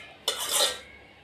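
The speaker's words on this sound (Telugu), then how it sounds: "ఇదిగోండి దోసకాయ కలుపుతున్నాము" Cucumber pickle (dosakaya avakaya) being stirred in a pot, a single close scraping swirl of spoon against metal lasting about half a second, with no talk.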